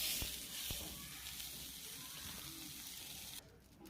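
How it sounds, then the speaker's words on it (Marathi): Butter sizzles on a hot tawa griddle ahead of making dosa, a steady broadband hiss with a couple of soft knocks near the start, lasting almost the whole stretch before cutting off abruptly near the end. "डोसा बनवण्यासाठी आपण येथे तव्यावर बटर घालूयात।"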